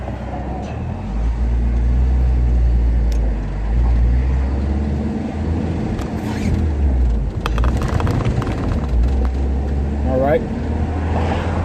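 A 1990 Jeep Wrangler climbing a hill in first gear, its low engine drone and road rumble steady and loud throughout, with someone talking over it.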